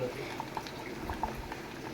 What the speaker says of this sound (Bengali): এদিকে আমার খিচুড়ি ফুটছে